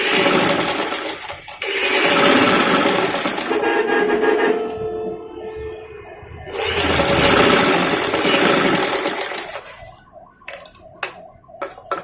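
A sewing machine stitches the side seam of a frock in two long, loud, steady runs of whirring motor and needle chatter, with slower clicking and handling between and after.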